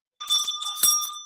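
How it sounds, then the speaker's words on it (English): A bell rings out once in a brief, bright tone with sustained shimmering overtones and a second louder strike near the end, close and alone with no talk. "Make a ring bell"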